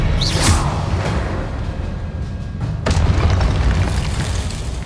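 Spell-casting explosions in the video game Hogwarts Legacy: heavy booms and bursts with whooshing swipes, loud and dense, with a sharp blast near the middle over continuous rumbling.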